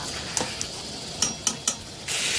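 Potatoes and cauliflower with ground spices sauté in a pan: a soft low sizzle broken by a few sharp spatula clicks and scrapes against the metal.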